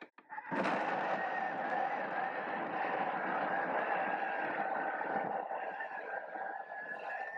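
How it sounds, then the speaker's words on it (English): A food processor whirs continuously while blending vegetables for a savoury or sweet gluten-free pancake batter, a loud steady motor drone with a rough churning texture that runs nearly the whole time and eases slightly near the end. "All right, into the food processor we go."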